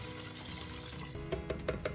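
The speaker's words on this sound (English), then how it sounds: "I'm going to add the chicken stock." Chicken stock pours into an Instant Pot, a faint, steady liquid trickle close by, ending with a few light clinks, with no talking.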